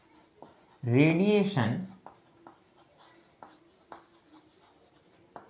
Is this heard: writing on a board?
yes